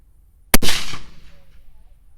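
A single sharp crack from a .223 precision rifle firing a 77 grain TMK load, loud and close, followed by a brief rumbling decay as it echoes away.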